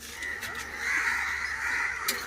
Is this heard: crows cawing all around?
yes